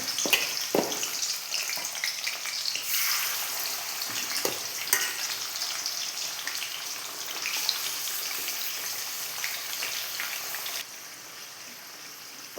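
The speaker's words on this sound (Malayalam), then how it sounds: "ഇനി അതിലേക്ക് ചിക്കൻ്റെ പീസുകൾ ചേർത്ത് കൊടുത്തിട്ട് നമുക്കൊന്ന് മുരിച്ചെടുക്കണം" Chicken pieces frying in sunflower oil sizzle steadily, with a dense, close crackle and a few stirring knocks and scrapes that drop quieter near the end, with no talking.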